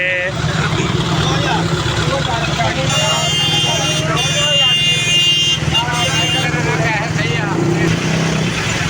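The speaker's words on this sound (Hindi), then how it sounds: "बम्पर टू बम्पर ट्रक लगे हुए हैं।" Heavy bumper-to-bumper truck traffic on a congested road near a livestock market, with a steady engine drone, repeated horn blasts and loud continuous voices over the top.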